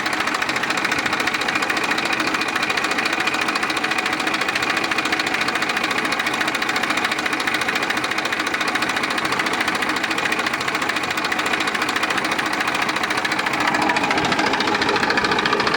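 A steady, rumbling 241 DI tractor diesel engine runs continuously, loud and close, with a rapid knocking idle pulse throughout.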